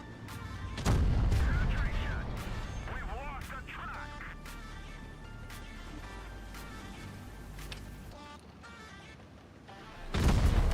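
Gunfire in a shooter video game with the XM66F, heard as a heavy boom at the start, then scattered shots and distant battle noise, and another loud blast near the end.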